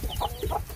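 Young chicks peeping inside a coop, a rapid run of short high calls close by, several chirps within under a second with no talk.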